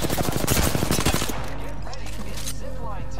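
Rapid automatic gunfire in Apex Legends rattles out in a dense, loud burst, then gives way to quieter in-game sounds as players talk.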